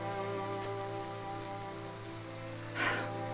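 Rain in the video game Triangle Strategy falls as a steady hiss beneath a sustained, droning musical backdrop, with one brief louder rushing burst near the end; no one speaks.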